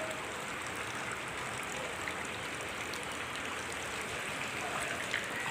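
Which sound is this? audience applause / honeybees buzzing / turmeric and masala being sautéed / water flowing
water flowing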